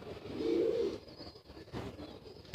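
Pigeon back from a four-hour flight, giving a close, moderately loud throaty coo near the start, then softer cooing and rustling before a brief sharp sound at the end.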